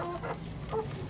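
Hens in a hen house crowding to their water, with soft overlapping clucks and low murmuring calls close by, steady and muffled.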